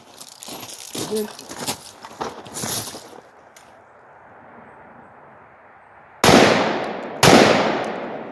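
Two loud, sharp rifle shots fired at targets 300 to 500 yards away, each cracking suddenly and trailing off in a long echo, coming about a second apart after someone talks.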